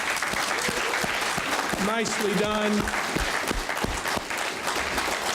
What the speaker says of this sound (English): I wanna give another round of applause to these guys.